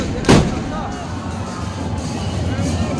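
A single loud gunshot bang fired during the Seto Machindranath Jatra festival in Nepal, followed by a steady rumble of crowd chatter and outdoor noise.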